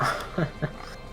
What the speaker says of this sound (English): Oh, my dog. He's begging to go outside.